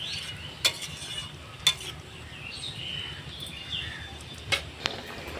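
Chicken-scrap ghugni simmers quietly in a pot with a soft steady bubbling hiss, broken by a few sharp spoon taps against the pan as it is stirred now and then.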